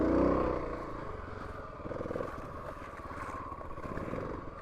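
A Kawasaki KLX300 dirt bike creeps at about 6 mph over a rocky trail, its single-cylinder engine a steady, close, low chugging drone with the clutch slipping, no talking.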